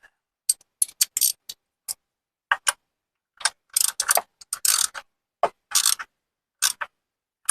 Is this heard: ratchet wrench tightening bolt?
yes